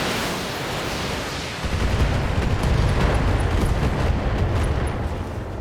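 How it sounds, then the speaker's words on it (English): A loud, rumbling blast of SRM ammo exploding in the BattleTech video game swells after a second and roars on continuously. "SRM ammo explosion."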